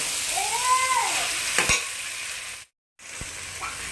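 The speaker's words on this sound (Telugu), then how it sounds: "మనం హైలో పెట్టుకొని ఇవన్నీ ఫ్రై చేసుకుంటాం కదా కలుపుకుంటూ ఉన్నాం క్యారెట్ ముక్కలు బీన్స్ టమాటా వేసుకొని బాగా కలదిప్పుకోవాలి" Carrot pieces, beans and tomato for vegetable pulao stirred and fried in a pan on high heat, a steady close sizzle broken by a few scraping strokes of the spoon, with no talking.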